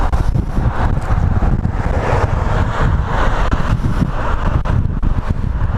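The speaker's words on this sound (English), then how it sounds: "I got a pretty good headwind going right now" Steady headwind buffeting the microphone of a road cyclist out on a ride, a continuous low roaring rush with gusty swells and no talking.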